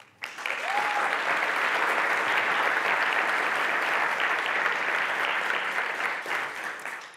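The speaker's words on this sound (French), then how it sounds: "Applaudissements pour Marie" Audience applause welcoming a speaker at a tech talk, bursting in suddenly and holding as steady, dense clapping for about seven seconds, with a short whistle near the start.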